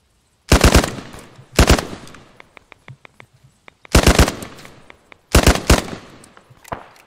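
Gunfire in a combat video game: loud, close bursts of rapid automatic fire in four clusters, with sharp single shots and clicks spaced between them and no speech.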